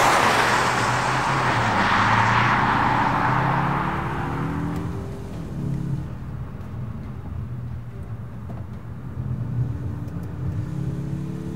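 A 2021 Mazda 3 turbo drives on the road, a steady interior drone of engine and tire noise that starts with a louder rush of acceleration and then settles into a smooth, moderate cruise hum.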